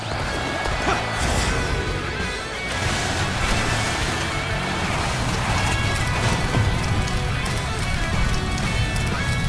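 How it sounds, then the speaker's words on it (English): In the Dynasty Warriors: Origins video game, a dense volley of arrows rains down as a loud, continuous clatter and rush of impacts, heavy and unbroken throughout. "This rain of arrows force prevents both progress and retreat."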